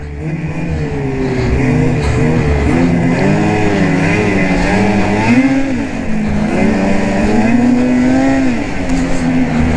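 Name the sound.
Ski-Doo 2020 Backcountry XRS snowmobile engine while riding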